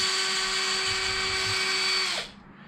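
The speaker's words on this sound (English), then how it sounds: "I'm gonna pull out all the little grub screws first." A small power driver whirs steadily at high pitch while backing grub screws out of Traxxas X-Maxx RC truck shocks, running close and loud for about two seconds before winding down and stopping.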